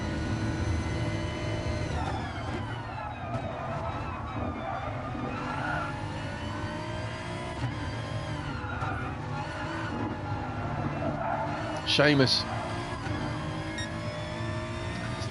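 Race cars including a Citroen and a BMW roar steadily through a racing video game lap at the Nurburg GP circuit, engine drone continuous with a brief sharper burst near the end, while a commentator talks over it.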